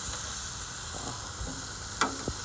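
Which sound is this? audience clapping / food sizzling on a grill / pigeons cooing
food sizzling on a grill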